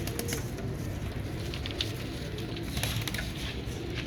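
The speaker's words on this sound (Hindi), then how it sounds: "ये दोस्तों कबूतर" Pigeons with red eyes cooing softly amid steady rustling and flutter, a low continuous murmur of birds close by with faint higher chirps over the top.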